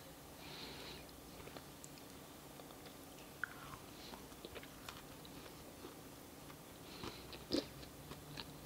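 Someone is eating eggless, dairy-free vegan banana bread with chocolate chips, with soft close-up chewing and occasional small bites and crunches over a quiet background.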